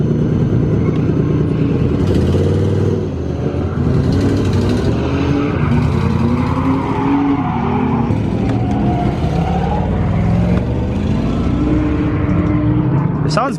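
A Nissan 240SX engine starts and is driven, a loud close rumble that rises and falls with revving, while people talk over it.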